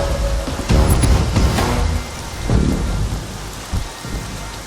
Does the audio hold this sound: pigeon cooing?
no